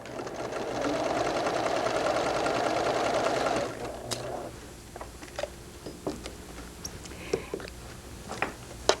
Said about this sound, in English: Now I will sew the second row of stitching to catch the underneath edge here.